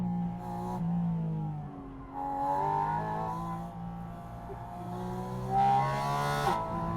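Porsche roadster engine at full throttle, with strong rising and falling harmonic tones as it revs through gears, sharp shifts breaking the pitch, loud and close throughout.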